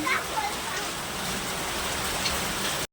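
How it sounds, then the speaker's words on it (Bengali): Heavy hailstorm with rain and hailstones falling, a dense steady wash of drumming and pattering that stays loud and continuous, then cuts off abruptly near the end. "আমাদের এখানে শিলাবৃষ্টি হচ্ছে, কত বরফ পড়েছে দেখতে পাচ্ছ, প্রচুর বরফ।"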